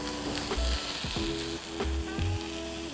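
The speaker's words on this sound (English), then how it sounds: "So just take your time on searing the beef." Beef searing in a hot pan for garlic-studded roast beef, a continuous loud sizzle close at hand, with a low intermittent hum and faint tonal whine underneath.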